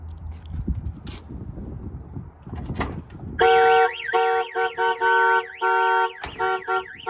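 A two-way remote car alarm siren on an Aerocoupe blares in loud, warbling bursts that cycle through rising and falling tones, preceded by faint rustling and handling noise.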